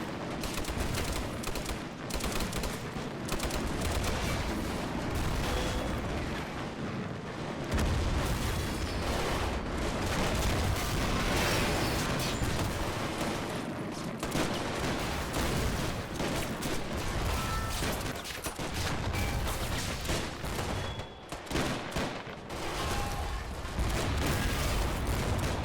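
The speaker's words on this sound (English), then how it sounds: "Italian light machine gun as well." An Italian light machine gun fires during a fort defense at the Siege of Tobruk in a war game, as dense, continuous bursts of gunfire and distant booms blend into a loud, unbroken battle din.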